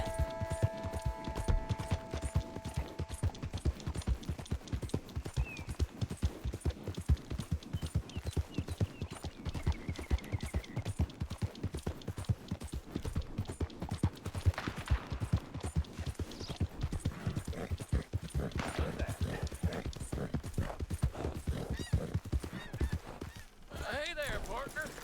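Rhythmic clip-clop of horse hooves trotting steadily in the video game Red Dead Redemption 2, close and fairly loud, with game-style mechanical clicks and ambient noise in the background.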